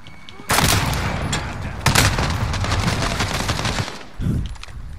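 Gunfire in Call of Duty Modern Warfare: loud sustained bursts of rapid shots with booming tails, a brief pause, then another short burst near the end.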